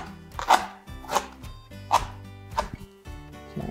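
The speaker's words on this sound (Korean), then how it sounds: "데친 얼갈이도 다 쫑쫑쫑쫑 썰어 놓을게요" A knife chops blanched napa cabbage greens on a cutting board, giving about five sharp, close thuds at a steady unhurried pace with no talk.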